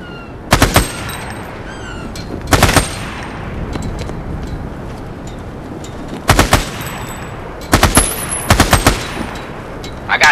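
Loud bursts of automatic gunfire from a military shooter's training simulation using rubber bullets, coming in several separate rapid volleys with quieter gaps between them.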